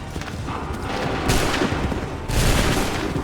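Soldiers fire musket volleys in the video game Assassin's Creed 3, two loud crackling bursts of many overlapping shots about a second apart, with rumbling battlefield noise throughout.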